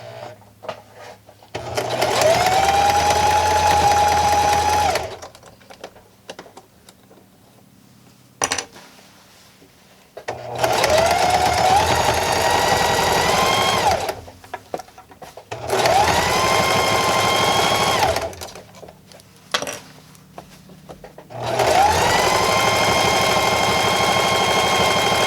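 A sewing machine stitches fabric for a fitted skirt in four loud, steady whirring runs of a few seconds each, separated by short quiet pauses.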